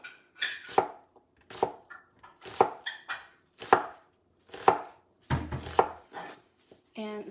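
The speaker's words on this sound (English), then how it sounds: "once I finish slicing these onions, I'm gonna mince some up for Producer Patrick to put in the meat." Kitchen knife slicing onions on a cutting board, about a dozen crisp rhythmic chops with short gaps, close and clear with no talk.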